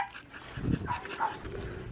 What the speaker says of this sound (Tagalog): Si Burger, parang ngayon nakakita ng ibang aso, ah.